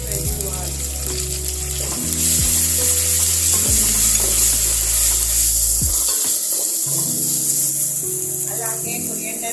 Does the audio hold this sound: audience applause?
no